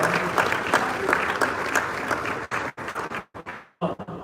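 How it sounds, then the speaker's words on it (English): An audience claps a round of applause at a business seminar in a hotel hall, a dense patter of many hands that thins and breaks into scattered last claps before fading out. "give yourself a round of applause."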